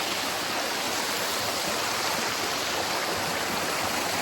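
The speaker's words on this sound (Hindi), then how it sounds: "This is the waterfall. It's beautiful" A waterfall in Wayanad, Kerala, pours as a steady, dense rush of white water noise that holds unchanged throughout, with no voices.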